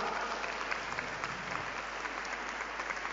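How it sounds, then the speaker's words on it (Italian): Steady applause from a team of roller-skating athletes clapping for their coach at a skating show, a dense even patter of many hands at moderate distance, continuous throughout with no talk. "l'applauso di tutte le atlete al loro allenatore"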